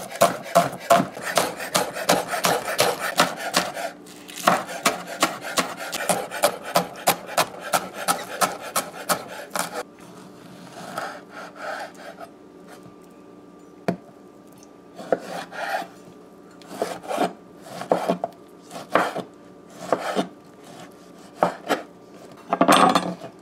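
Garlic is pounded in quick, rhythmic bursts of hard strikes. The bursts stop for a few seconds, then the pounding resumes in shorter, irregular rounds.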